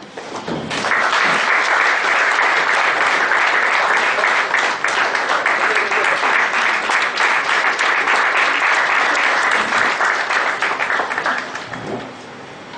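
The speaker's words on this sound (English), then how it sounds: "A round of applause." Loud, dense applause from a seminar audience at a tax audit inauguration, steady clapping that starts abruptly and holds at full strength for about eleven seconds before stopping.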